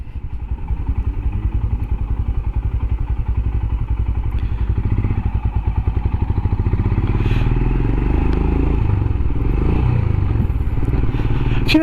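Steady pulsing thump of a Royal Enfield Himalayan single-cylinder engine on an evening ride toward the city, loud and close throughout, with a change in engine note as the rider misses the shift into second gear.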